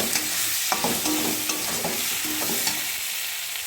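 Spice masala with tomato frying in oil in a pan, a dense steady sizzle broken by repeated scraping stirs of a spoon, close and continuous without any voices.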